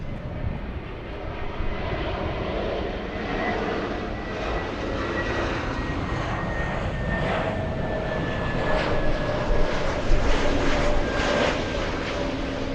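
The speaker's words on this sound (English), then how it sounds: "This arrival, we have Delta's 2914 flying in from Seattle, Washington." A Delta airliner arriving at LAX on its flight in from Seattle makes a steady, sustained jet roar with a faint descending engine whine, swelling slightly louder toward the end, with no voices.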